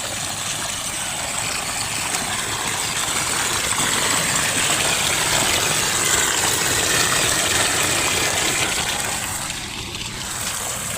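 An electric water pump motor on a chilli farm runs in the morning, a loud, steady whirring drone with rushing water that holds unchanged throughout, with no voices.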